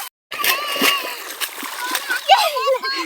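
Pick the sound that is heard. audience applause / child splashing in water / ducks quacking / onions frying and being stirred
child splashing in water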